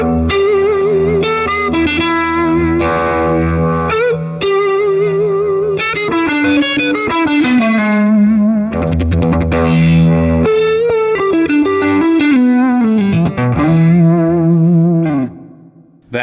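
An electric guitar runs through an alien-sounding Bias Effects preset, heavily distorted and warped with chorus and echo, playing sliding, bending lines that swoop up and down, loud and continuous before cutting off near the end.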